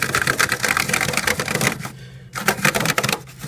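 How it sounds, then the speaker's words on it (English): Dense, rapid plastic clicking and rattling of keys being scrubbed steadily, close up, with one short lull in the middle. "I tend to just scrub in circles along the whole perimeter of the keyboard."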